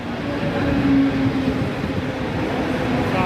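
A Mumbai local train pulls in at a station platform, a steady rumbling roar with a brief high squeal of wheels or brakes, close and continuous.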